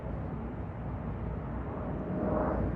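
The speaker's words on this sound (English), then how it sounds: "Yeah, I hear it. That's a plane." A steady, low broadband roar of a distant airplane over Charleston, West Virginia, rising slightly toward the end as it passes overhead; no talking.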